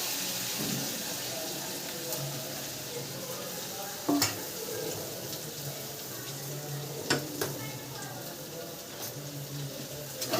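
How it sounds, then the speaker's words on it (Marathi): Brinjal and masala frying in a pan, a continuous soft sizzle with occasional sharp clinks and scrapes of a utensil, close by with faint background noise and no clear talk. "वांगे आणि मसाला एकदम असं फ्राय करून घेऊ आपण"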